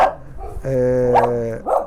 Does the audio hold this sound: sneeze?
no